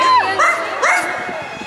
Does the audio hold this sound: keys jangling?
no